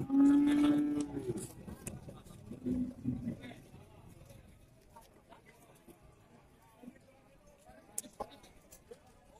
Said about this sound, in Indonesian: Ini betina sapi PO.